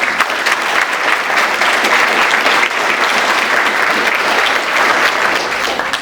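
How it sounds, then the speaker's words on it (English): Audience at an annual volunteer recognition event applauds the volunteers, loud sustained clapping from a sizable crowd that continues evenly for several seconds without pause. "So can we give the volunteers a round of applause as well?"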